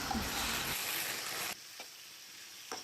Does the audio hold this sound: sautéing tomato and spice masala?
yes